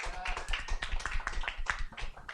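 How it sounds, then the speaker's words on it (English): Applause from a small group for someone's ghost stories, heard as a dense patter of uneven claps with a few sharper individual hits, fairly close and steady throughout. "Round of applause for Ash and his ghost stories."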